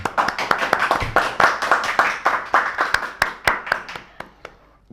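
A small group claps in quick, uneven bursts during a Turkish game show with guests, sharp hand slaps close by that build and then thin out to a few last claps near the end.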